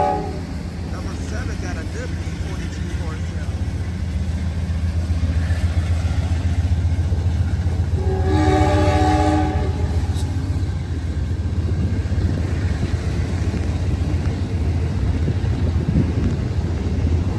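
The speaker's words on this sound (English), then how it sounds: "This is the Coast Starlight, train number 11, P42 DC number 7" The Amtrak Coast Starlight, train number 11, led by P42DC locomotives 7 and 142, rumbles into Oakland Jack London Square station and sounds its horn in one loud blast midway through, over a heavy engine drone.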